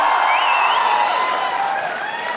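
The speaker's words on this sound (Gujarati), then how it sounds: "માટે જોરદાર તાળીઓ થઈ જાય" Crowd at a live Gujarati comedy show in Ahmedabad clapping and cheering, a dense wash of applause that slowly fades, with a few whoops rising above it.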